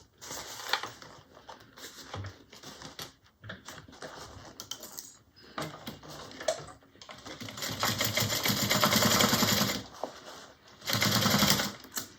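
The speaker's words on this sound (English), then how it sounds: "And then we're going to sew that at 3/8 also." A sewing machine stitching a bag seam at a 3/8 inch allowance, running in short starts then longer steady whirring bursts, close and fairly loud, with brief pauses between runs.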